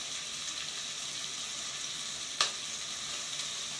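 Potatoes sizzle and crackle steadily in a pan with onions and peppers, a constant bright frying hiss broken by one sharp clink partway through.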